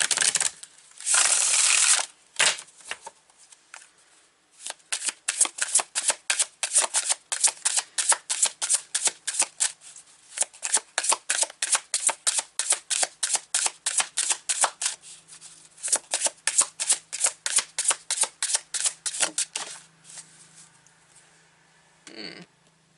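An Earthly Souls and Spirits Moon Oracle card deck being shuffled: a brief riffle, then long runs of rapid, crisp card flicks in rhythmic bursts with short pauses, close and fairly loud, no talking.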